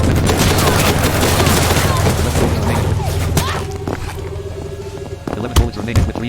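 Rapid bursts of automatic gunfire in the Scarlet Shell shooting game, loud and dense for several seconds before thinning into scattered shots and a tonal beeping, with a few sharp blasts near the end.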